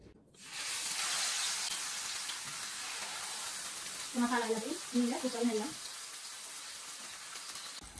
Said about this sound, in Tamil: மெல்லிய சூட்ல மீனை பொறிச்செடுக்கிறேன்